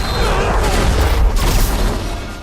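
A film shootout produces a dense, loud wall of gunfire blended with booms and crashes, a continuous roar where single shots barely stand apart.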